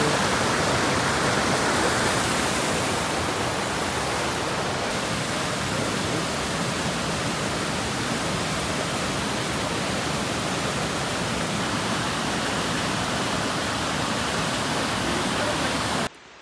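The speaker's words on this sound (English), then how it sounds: "this must be the waterfall on this corner here" A Lake District waterfall roars steadily close by, a dense continuous rush of falling water that holds even in level until it cuts off abruptly at the end.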